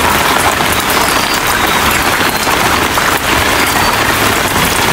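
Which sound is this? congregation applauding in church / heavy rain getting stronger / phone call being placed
heavy rain getting stronger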